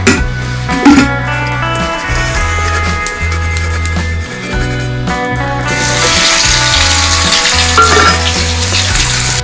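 Fish sizzle and spatter steadily in hot oil in a home kitchen in the Konkan, with a loud, continuous frying hiss that grows brighter toward the end over a repeating low background tone.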